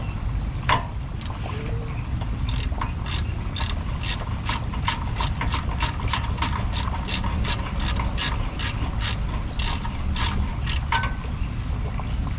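A ratchet wrench works on the 17 mm oil drain plug of a Honda V6 engine, giving a close, loud run of evenly spaced clicks that speed up into a quick steady rhythm over a mechanical hum.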